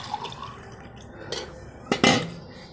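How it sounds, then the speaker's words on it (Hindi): Water is poured into a drinking glass with a few light clinks and trickling splashes, ending in a short, louder burst of liquid near the microphone in a quiet room. "तो पहले मैं पानी ढारता हूँ और पीता हूँ"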